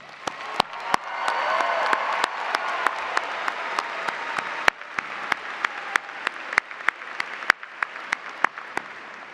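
Audience applause at a spring commencement ceremony, a steady roar of many hands clapping under the hall's echo, with sharp, louder individual claps standing out nearby throughout.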